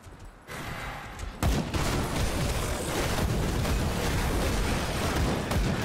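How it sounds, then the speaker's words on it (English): Laser gun fire in the action RPG Grim Dawn, a dense sustained crackling barrage that starts after a brief lull and keeps up loudly to the end. "I just heard some like laser guns."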